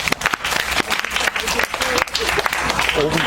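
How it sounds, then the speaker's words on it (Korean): An audience at a school student council election debate claps for the candidates, a dense, lively patter of many hands filling the room throughout, with voices mixed in. "열심히 준비하고 토론해준 후보자분들에게 큰 박수 부탁드리겠습니다"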